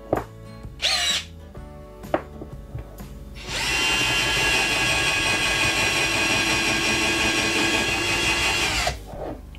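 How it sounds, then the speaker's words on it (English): An IKEA FIXA 14.4V cordless drill bores into wood, with a few short trigger bursts followed by one loud, steady whine lasting several seconds before cutting off. "I'm applying drill mode"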